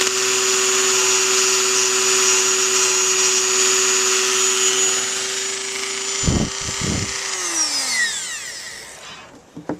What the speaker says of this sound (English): You get carried away with these moto tools, you can really gouge away.